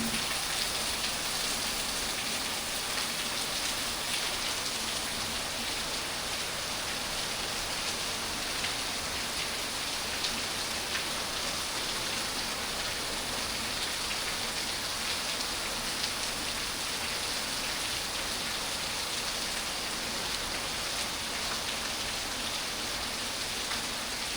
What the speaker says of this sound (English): I'm pleased to say we've finally got some rain.